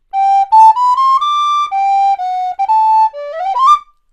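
Recorder plays a quick ornamented scale figure from Van Eyck's English Nightingale, a clear, bright run of short and held notes climbing and falling, close and solo with no talk.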